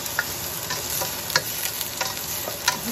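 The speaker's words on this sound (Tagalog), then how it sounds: "Gisa mo na yung sibuya sa kaluya" Onion and ginger sautéing in a pan for a Visayan chicken soup, a steady low sizzle with scattered light crackles and pops, heard up close and without talk.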